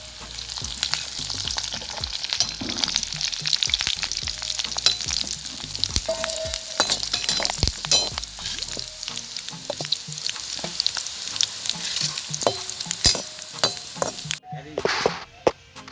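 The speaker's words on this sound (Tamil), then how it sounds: "வெங்காயம் பொரிஞ்சு வந்து ப்ரௌன்கலராக வருது. அப்போ நாங்கள் இப்போ என்ன செய்யணும், கருவேப்பிலையும் போடுறோம் அதுக்குள்ளே பொரிக்கிறதுக்கு." Onions and curry leaves fry in hot oil with a loud, continuous sizzle and crackle, occasional stirring clinks, close by, ending with a sudden drop near the end.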